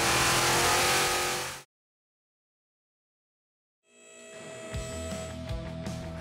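A 1977 Ford Granada engine revs on a dyno, a loud sustained roar that cuts off abruptly into total silence, then returns as a lower steady hum with some knocks.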